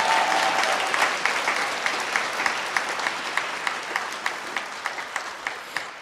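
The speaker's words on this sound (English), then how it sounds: "You know the sound of those claps?" An audience at a stand-up comedy show applauds steadily, a dense wash of many hands clapping that slowly fades, with individual claps settling into a loose rhythmic pattern near the end.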